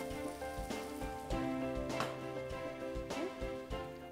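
Tomatoes sautéing in a covered pan, a quiet sizzle and crackle with faint rattling taps, no voices.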